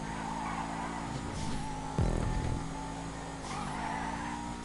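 A steady car engine drone with a brief tire skid burst in the middle, loud and continuous, from a race in GTA Online.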